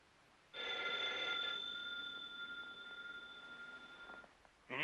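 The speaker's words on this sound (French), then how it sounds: "Ellie, téléphone, Ellie." An old-fashioned telephone bell rings loudly and continuously for about four seconds in a quiet room at night, a steady electric trill with no pauses, then stops before a brief rustle.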